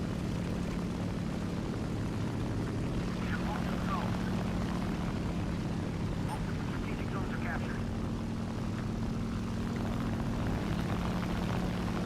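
A P-39 fighter's propeller engine drones steadily in War Thunder air arcade, a constant mid-loud hum with a voice talking over it.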